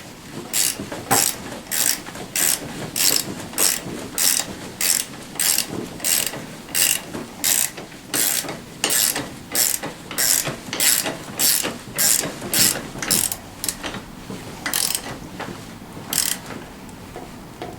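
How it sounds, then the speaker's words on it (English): A ratchet wrench tightening a 14 millimeter bolt on a Tao Tao CY50A scooter, a steady run of sharp rapid clicking bursts repeating in even strokes, close and alone. "It is a 14 millimeter, sorry guys. Just go ahead and tighten this down."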